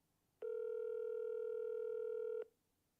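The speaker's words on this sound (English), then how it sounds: "Can you guys hear the phone ringing?" A phone line tone during an outgoing call, one steady electronic tone lasting about two seconds, clear and alone with nothing else audible.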